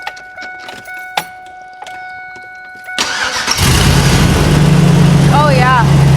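A pickup truck with a newly fitted exhaust is started: a few quiet clicks and taps, then the engine cranks and catches and settles into a steady, fairly loud idle close by.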